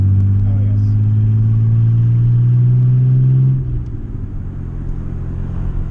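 An old 1990s Ford Ranger engine revs loud and steady on a rough desert trail, holding a droning pitch before dropping off sharply as the driver speed shifts, then rumbling lower afterward.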